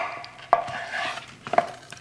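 Kitchen knife chopping onion into big rustic pieces on a cutting board, a few sharp, separate knocks with quiet pauses between them, close and fairly soft.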